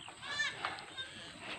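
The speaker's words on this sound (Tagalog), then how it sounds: "ito po yung mga kambing" Goats on a farm bleating in short wavering cries, fairly faint and somewhat distant, mixed with children's voices and people talking nearby.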